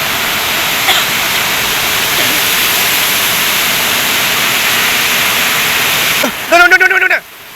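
Strong water pours steadily at night during river fishing, a loud continuous broadband rush that fills the scene, with a brief burst of other sound near the end.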